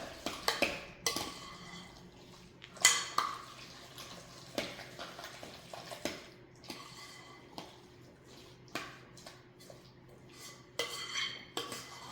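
Utensils stir food in a bowl while making an egg salad dinner, with close clinks and scrapes of metal on dishware in irregular bursts, some louder knocks, and no talk.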